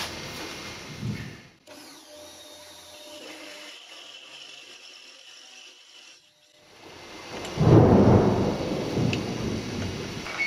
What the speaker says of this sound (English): plenty of thunder around, so you might hear a bit of it in the camera